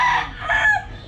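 A gamefowl rooster crows loud and close in a single drawn-out call with a rising second phrase.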